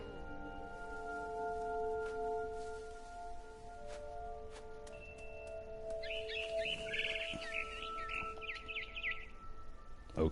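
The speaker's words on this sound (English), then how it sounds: "Then I heard chirping outside my window. It was a barn swallow going back to her nest." A barn swallow chirps in What Remains of Edith Finch, its bright twittering calls rising in a lively burst partway through over a steady ambient hum and tonal drone.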